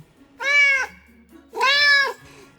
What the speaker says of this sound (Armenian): Կատու։